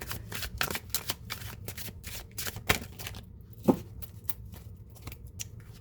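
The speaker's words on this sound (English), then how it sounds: "Okay, I'm going to split the deck." A deck of tarot cards is split and shuffled up close, giving rapid papery riffles and flutters with a few sharper slaps as the halves come together.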